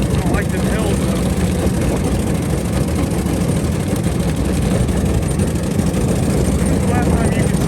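A cobbled-together, rough-running Model T Roadster engine labours uphill with a loud, steady, low rumbling drone, and a voice may be faintly present under it.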